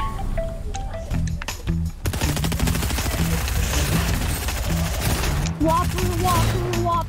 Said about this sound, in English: But there's so much shooting.